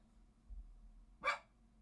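A single dog bark rings out indoors at a moderate distance, one short burst after a quiet stretch with low room hum.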